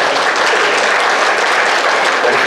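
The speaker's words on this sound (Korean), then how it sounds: "우리 속장님들, 인도자님들을 위해서 박수 한번 쳐주십시오." A church congregation applauds together, a dense, steady wash of many hands clapping at close range, loud and continuous throughout with no talk over it.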